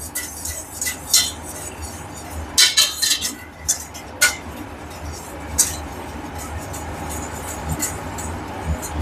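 A utensil clinks and scrapes against a bowl while ingredients for a fish fillet cream sauce are mixed, with irregular bursts of knocks and taps over a steady background hum.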